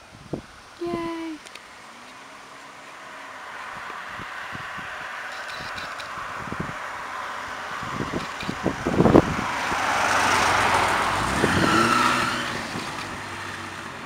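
A custom VW bus built around a Porsche 911 engine pulls away and fades into the distance, its motor swelling briefly and then trailing off under rustling wind noise, with people's voices and a short cheer near the start.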